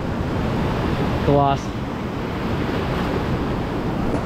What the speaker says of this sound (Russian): Волны, видите, докатываются прям почти до самого конца.